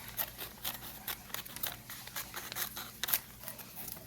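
Scissors snip through colored paper being trimmed for quilling: a quick, fairly regular series of crisp close cuts, quiet overall, with no talking.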